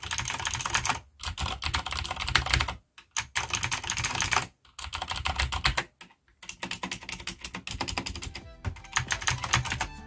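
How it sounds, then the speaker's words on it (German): Typing on a Cherry G80-3000 keyboard with clicky MX Blue switches and pudding keycaps: close, crisp bursts of rapid clacking keystrokes separated by short silent pauses. "Und hier noch der akustische Unterschied zwischen den Originaltasten und den Pudding Keycaps."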